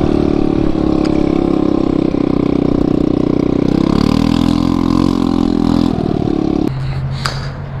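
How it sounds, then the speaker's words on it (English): Loud scooter exhaust while riding fast, a droning mid-pitched engine note that holds steady, rises and dips with throttle changes, then drops to a lower tone near the end. "Dude, this exhaust is so loud."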